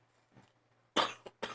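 Coughing fit from a person, a long harsh cough followed by two shorter bursts, loud and close after a quiet stretch with faint breathing.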